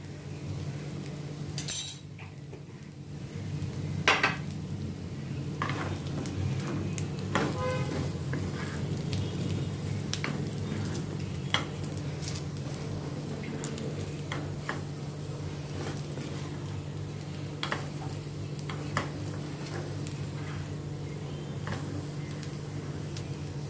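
Fried taro being stirred with amchur powder in a pan, soft metallic spoon clinks and scrapes over a low steady background hum, fairly quiet and close.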